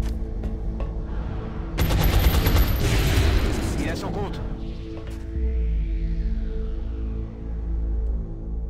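Bursts of rapid gunfire in XCOM: Enemy Within crackle in a loud flurry midway, over a continuous electronic soundtrack and background hum.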